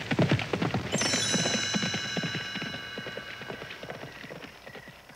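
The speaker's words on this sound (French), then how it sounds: "Quel est ce bruit? C'est un chevalier en armes et il fonce droit sur nous." A horse carrying an armoured knight charges in a 1986 Disney Mickey cartoon: rapid, loud hoofbeats drum close by, joined by a bright metallic chiming ring that slowly fades as the gallop continues.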